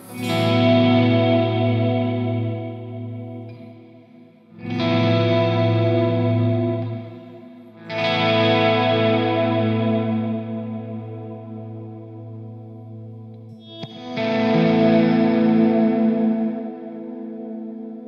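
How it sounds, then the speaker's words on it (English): Guitar notes swell in slowly from silence in four successive waves, each blooming with heavy reverb from a Strymon BigSky pedal and a washy, backwards-sounding rise before fading. "It sounds a bit like a reverse reverb, really, like you're playing tape backwards."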